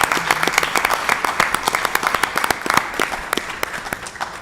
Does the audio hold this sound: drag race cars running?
no